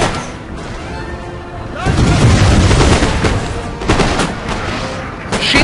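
Musket volleys crackle in Total War: Napoleon at the Battle of Waterloo, with dense overlapping gunfire swelling at about two seconds and again near four, over a noisy battlefield, with someone speaking German.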